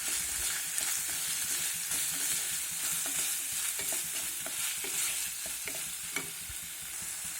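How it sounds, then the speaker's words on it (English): Ingredients for a Spanish omelette with salt and chili powder are stirred in a hot pan, a steady close sizzle broken by scraping stirs and small knocks of the utensil. "I'm going to mix that well."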